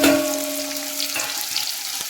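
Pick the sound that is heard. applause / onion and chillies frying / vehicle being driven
onion and chillies frying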